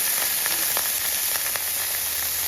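A petite sirloin steak sears on a Blackstone flat-top griddle, giving a steady, even sizzle with faint scattered pops and crackles, with no talking over it.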